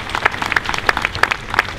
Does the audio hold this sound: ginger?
no